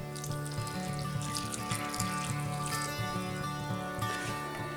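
Hot water pours into a play dough mixture of flour, cream of tartar and oil, a soft continuous splashing trickle heard faintly beneath steady background music.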